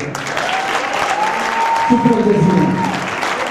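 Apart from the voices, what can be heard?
audience applause in tribute to a singer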